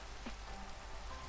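Steady rain falling in a Minecraft survival world, an even, soft hiss of drops spread across the whole moment, quiet and unbroken, with no voices.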